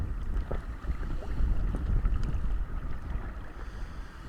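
A very small dinghy rocks at sea at night, with a continuous low rumble of water and wind buffeting close to the microphone, steady and fairly loud, with small sloshing surges and no voices.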